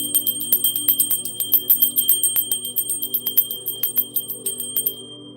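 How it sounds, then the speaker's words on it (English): A bell rings in a quick repeated series of bright metallic strikes, about a dozen in steady rhythm, loud and close before fading at the end. "Let's ring the bell."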